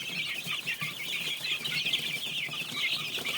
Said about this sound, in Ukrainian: Ось так вони лупашать корм